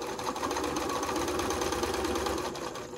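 A sewing machine stitching quilt binding runs in one continuous fast, steady whir at close range for the whole stretch, with no voices over it.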